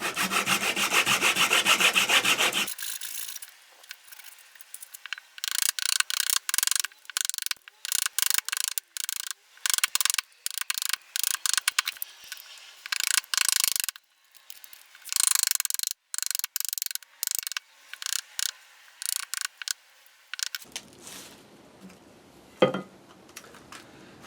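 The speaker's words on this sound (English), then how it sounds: "I just put in a relatively shallow saw cut that I can then axe down to" A handsaw rasps through a log for a shallow cut while a spoon blank is shaped, followed by close, irregular bursts of an axe chopping and scraping the wood, with pauses between strokes.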